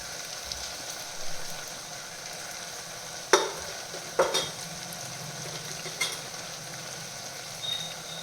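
Okra masala frying in a pan while spices are stirred in: a soft steady sizzle broken by a few sharp metallic clanks of a spoon against the pan.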